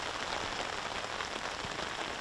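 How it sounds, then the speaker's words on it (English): Steady rain falling across a disc golf course during a tournament round, a dense, even patter and hiss filling the whole stretch with no voices. "the rain continues to fall here at this point during our back nine"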